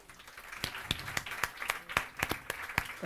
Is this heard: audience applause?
yes